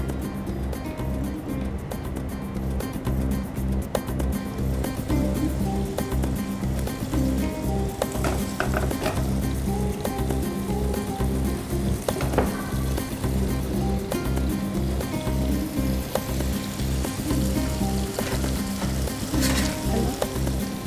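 Marinated teriyaki chicken pieces frying in hot oil, a loud dense crackling sizzle that holds steady throughout, close up, with faint scrapes and knocks of utensils and a low hum underneath.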